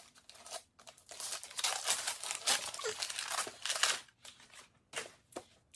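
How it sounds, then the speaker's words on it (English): A wrapped book being unwrapped by hand, with repeated crinkling and tearing of paper in uneven bursts, close and fairly loud, separated by short pauses. "I do have to unwrap my book for the week."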